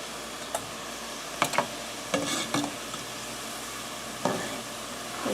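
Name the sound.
struffoli dough balls frying in a pot of oil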